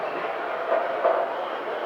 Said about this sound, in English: Nice caboose sounds.